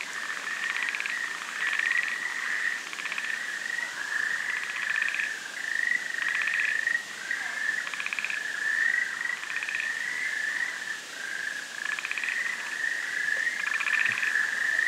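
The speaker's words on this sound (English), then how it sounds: "The endemic Amami Ishikawa Gairu, considered to be Japan's most beautiful frog." Amami Ishikawa frogs, an endemic species of Japan, call from a wet night-time forest. A steady chorus of repeated bright calls pulses over constant insect-like trilling, close and fairly loud, with no voices.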